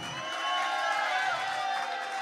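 A small bar crowd at a country music show cheers and whoops in a steady, loud wash of noise.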